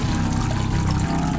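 Gasoline poured inside the video game The Happyhills Homicide, a steady liquid glugging and trickling that runs unbroken and fairly loud for about a second and a half, alone with no talk.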